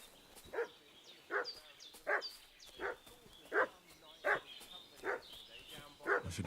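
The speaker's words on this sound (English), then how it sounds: "What's that dog making such a fuss about?" A dog in Kingdom Come: Deliverance II barks in a steady series of about ten loud, evenly spaced woofs, with a faint high tone running behind them.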